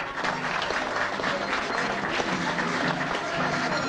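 An audience claps in sustained, dense applause at an event in a geriatric care home in Mar del Plata, steady and loud throughout the clip with no pauses.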